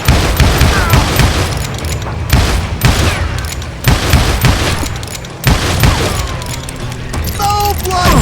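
Western shootout in the video game Call of Juarez Gunslinger, with loud booming gunshots and rapid volleys coming in bursts, and voices speaking over the firing.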